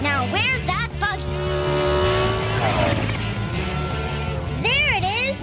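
A cartoon racing buggy zooms along, its engine whining and revving continuously while playful voices and sliding musical tones sound over it.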